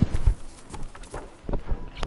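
A donkey's hooves clip-clop in a few quick, light steps in the video game Fortnite, close by and brief.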